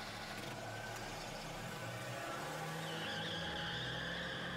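A muscle car engine in the video game Parasite Eve 2 drones at a steady idle-to-rev hum, a low continuous rumble with a thin whine rising over it partway through.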